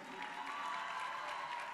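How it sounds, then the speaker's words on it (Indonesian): Audience applause at a Jakarta event for Indonesia's centennial, a steady, fairly faint wash of clapping from a crowd with no distinct individual claps. "Tepuk tangan untuk LSPR"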